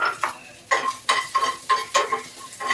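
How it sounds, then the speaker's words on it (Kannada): Peppers sizzle in hot oil for a tempering while a spatula stirs the pan in about six rhythmic scraping strokes over a soft steady crackle, close and fairly loud. "ಅದಕ್ಕೆ ಇವಾಗ ಒಗ್ಗರಣೆಗೆ ಹಾಕ್ತಾ ಇದ್ದೀನಿ"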